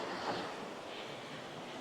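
Waves wash on a long, empty sandy beach in rural Thailand, a steady broadband surf roar blended with wind buffeting the microphone, moderately loud, with no voices.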